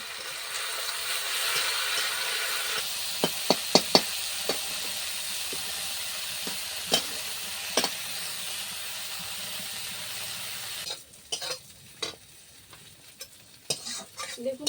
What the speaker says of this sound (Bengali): বন্ধুরা পুরো নিম পাতাটা ভালো করে আমি ভেজে নিয়েছি